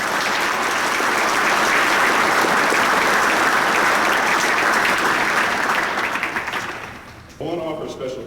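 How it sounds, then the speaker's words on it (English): A school assembly audience applauds veterans in attendance at a Veterans Day event, a loud, sustained wash of clapping that fades near the end before a voice begins speaking. "Please join me in a round of applause to recognize them."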